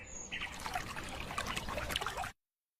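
In a cartoon, water is poured for washing hands and face, a short trickling splash for about two seconds that then cuts off to silence.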